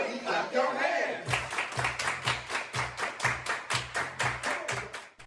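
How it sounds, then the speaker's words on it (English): A group of campers at Camp Tuhsmeheta clapping hands in time on a dance floor during a cha-cha slide, a steady run of about fifteen sharp, evenly spaced claps following a brief stretch of crowd noise. "Everybody clap your hands!"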